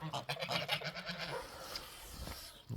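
Goat bleating on a farm near birdseed: short, wavering bleats up close, repeated over a few seconds, with faint background noise.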